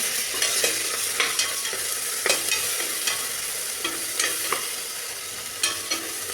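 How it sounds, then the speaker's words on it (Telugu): Onions fry in a pan with ginger-garlic paste and turmeric while a spoon stirs them, giving a steady close sizzle. Sharp scrapes and taps of the spoon against the pan recur every half second or so, with no talking. "కొంచెం అల్లం వెల్లుల్లి పేస్టు, పసుపు వేసుకుందాము. బాగా కలుపుకుందాం."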